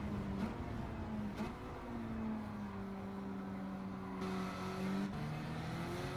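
Race car engine in Gran Turismo 7 on the Alsace circuit, a steady drone with rising and shifting pitch as the car accelerates, continuous and moderately loud with a faint tyre squeal now and then.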